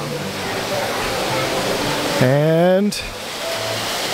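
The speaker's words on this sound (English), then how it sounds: "Waterfall!" A loud, steady rush of falling water from a waterfall beside the Seven Dwarfs ride at Magic Kingdom fills the scene, briefly interrupted by a short voiced sound partway through.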